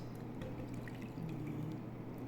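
Milk poured steadily into chiffon cake batter, a soft continuous liquid trickle lasting a couple of seconds under faint low room hum, no talking.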